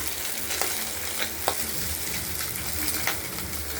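Pabda fish fry in hot oil, a dense, close sizzle with a few sharp spatter pops and light stirring clicks throughout, no voices.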